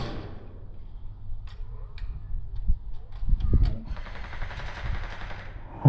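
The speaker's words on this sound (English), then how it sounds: "that's definitely my longest sniper shot so far" An airsoft sniper rifle shot at roughly 69 meters, replayed: a short sharp crack over outdoor field ambience with faint clicks and movement, some voices nearby.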